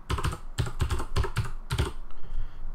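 Fingers type on a computer keyboard in short bursts of quick clicks with brief pauses between them, close and clear with no voices.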